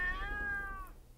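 A domestic cat gives a single drawn-out meow, close and fairly clear, lasting just under a second over a low background rumble.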